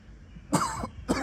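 Two short, harsh coughs close by, the first longer and the second a brief follow-up burst, with quiet room noise between them.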